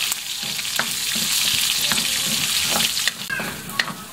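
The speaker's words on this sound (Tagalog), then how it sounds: "Ngayon, magigisa tayo ng luya." Sliced ginger sautés in a hot pan for Tagalog-style batchoy, a loud continuous sizzle near the microphone, broken by occasional sharp clicks of a utensil stirring.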